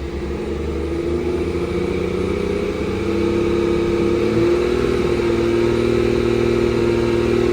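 BMW 440i with a B58 engine and an Active Autowerke downpipe held steady near 2,000 RPM, a continuous close-up droning hum with a deep, even exhaust tone and no breaks.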